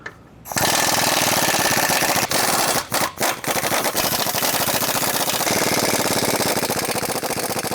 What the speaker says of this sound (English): Our next step is to take out the bolts for our sway bar, so that way we can put our sway bar drops in.